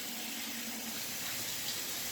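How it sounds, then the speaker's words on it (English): Cold water runs from a tap into a bathroom sink, a steady close splashing rush filling the basin, with no voices. "So I just filled the sink up with cold water."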